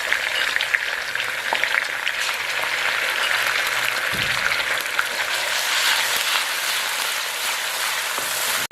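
Onions fry with ginger garlic paste for a dhaba-style chana dal, a continuous bright hiss and crackle like rain, steady and close with an occasional stirring clank.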